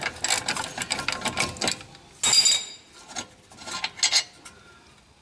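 A socket wrench works a brake caliper bracket bolt loose on a 2008 Honda CR-V, with quick metallic ratcheting clicks and rattling in several short bursts, close up and without speech.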